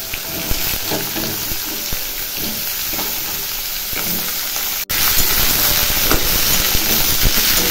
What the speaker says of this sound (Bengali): সবজিটা নাড়াচাড়া করে একটু ভাজা ভাজা হয়েছে